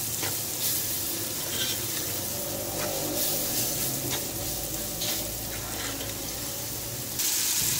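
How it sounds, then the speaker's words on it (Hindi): A spoonful or two of water added to frying masala for a potato chicken curry, bringing a close, steady hiss and sizzle with watery bubbling and scattered stirring clinks, no speech. "1 से 2 टेबल स्पून पानी ऐड कर दिया।"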